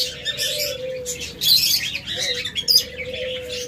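Pet budgerigars, cockatiels and lovebirds chirping together, a busy mix of high tweets and squawks over a steady low hum, close and without talk.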